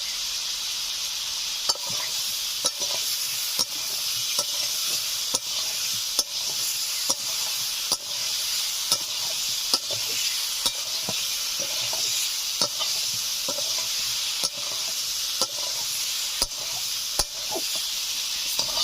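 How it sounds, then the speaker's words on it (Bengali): Potato pieces fry with salt and turmeric in a pan, a continuous bright sizzle broken by regular sharp clicks of a spatula against metal, close and steady throughout. "আলুগুলো হালকা ভাজা ভাজা হয়েছে"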